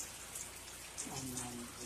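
Rain from Tropical Storm Elsa falls steadily as a soft, continuous patter on surfaces, with a brief low hum entering partway through.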